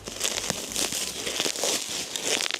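Bubble wrap packaging crinkles and crackles as it is pulled off newly delivered car wheels for a Vauxhall Astra VXR; the rustling is close, busy and continuous, with no talk.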